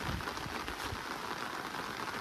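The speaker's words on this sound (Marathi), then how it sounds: "पाऊस काय थांबाचं नावच घेत नाही." Steady, dense rain pours down on farmland where a rice crop lies partly cut. The hiss is even and continuous throughout, with no talking.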